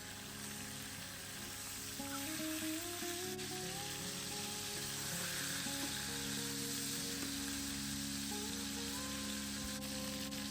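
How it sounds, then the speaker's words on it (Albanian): Food fries at medium heat in a pan, giving a steady, dense sizzle and crackle throughout, close and continuous with no voices. "Do t'i skuqim në temperaturë mesatare, duke i kthyer nga njëra anë në tjetrën."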